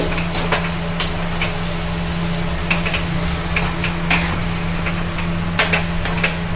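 Green banana chop mixture being stirred in a pan, heard as a steady scraping churn under a constant low hum, with sharp utensil knocks recurring every second or so.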